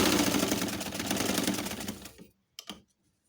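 A sewing machine runs a steady line of stitching across a cushion cover, its rapid close-up needle clatter ending abruptly after about two seconds, followed by a couple of brief clicks.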